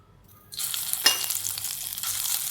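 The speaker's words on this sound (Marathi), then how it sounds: "लसूण आणि आपण आलं पेस्ट केली ना ती परतून घ्यायची।" Garlic and ginger paste sautéing in hot oil for veg momos, a bright close sizzle that bursts on after a quiet start and hisses steadily to the end, with no talk.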